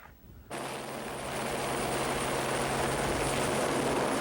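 A rescue helicopter at a mountain accident scene, its rotor and engine starting abruptly after a quiet moment, then holding a loud, steady roar with a low hum that slowly builds.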